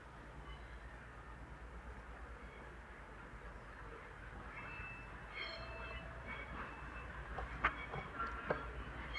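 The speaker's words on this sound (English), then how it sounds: "a Lumo 222 coming in, working the Lumo West Coast service from London Euston to Stirling" A Lumo Class 222 diesel train pulls into Crewe station on the West Coast Main Line, its low rumble building steadily from a distance. Faint wheel squeals and clicks sound near the end, with no talking.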